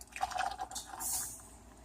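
Store-bought grape juice is poured from a coffee cup into canning jars for jelly, a soft liquid splash and trickle that ends in a brief rising fill sound, quiet and without talk.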